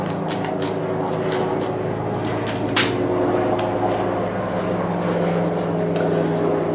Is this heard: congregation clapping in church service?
no